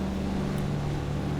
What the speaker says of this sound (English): I loved the engine sound, and that still holds true.